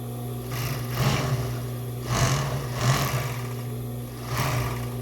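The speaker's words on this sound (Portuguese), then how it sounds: "na máquina overlock, a gente vai pegar o forro e vai passar uma costurinha aqui" An overlock sewing machine stitches lining fabric in several short bursts of rapid, close whirring and clatter, each starting and stopping over a steady motor hum.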